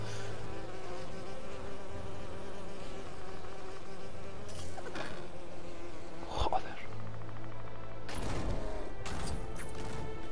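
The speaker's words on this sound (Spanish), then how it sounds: "Joder, qué pesada tú, la abeja de mierda." A bee buzzes loudly and persistently in LEGO The Hobbit, a droning hum that rises and dips in pitch as it circles near, punctuated by game impacts and bursts.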